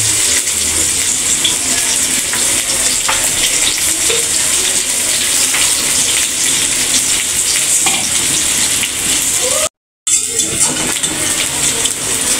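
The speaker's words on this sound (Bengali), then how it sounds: "কাঁচা মরিচটা ভালো মতো ভেজে নেবে।" Onion, garlic and green chili frying in a pan for a water lily stir-fry, a loud continuous sizzle with occasional stirring scrapes, briefly cutting out near the end before resuming.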